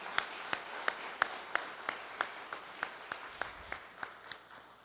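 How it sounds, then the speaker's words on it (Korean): A church congregation applauding during a Sunday service: a slow, regular run of distinct claps, fairly faint and even-paced, with a quiet room hum beneath. "다시 한번 우리 경제 박수 하시겠습니다."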